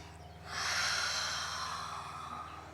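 One long, deep breath taken during a yoga flow, a close, breathy rush of air that swells quickly and fades slowly over a couple of seconds, alone with no talk.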